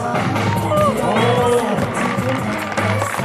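A crowd claps and cheers at the opening ceremony of the Yuseong Oncheon baseball tournament, loud, mixed applause with whoops and voices chattering throughout.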